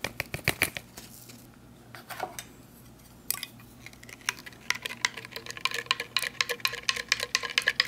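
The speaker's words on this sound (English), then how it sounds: "Mix it up with our MRE spoon because the ORP didn't come with any utensils" A metal MRE spoon mixing a New Zealand ORP dinner inside its pouch: quick rustling clicks and plastic crinkles up close, in bursts that grow busier toward the end.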